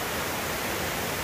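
Water rushes over Mingo Falls near Cherokee, North Carolina, a steady, dense, unbroken roar of falling water filling the space with no voices.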